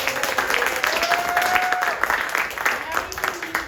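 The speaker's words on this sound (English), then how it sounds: "Another round of applause." Theatre audience at a Pride Weekend comedy show breaks into a sustained round of applause, dense and fairly loud throughout, with a voice speaking over the clapping.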